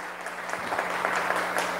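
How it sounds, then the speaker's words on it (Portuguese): A congregation applauds a priest at a novena service, a short even burst of many hands clapping, moderately distant, with a faint steady hum beneath. "a salva de palmas para o Padre Hermano"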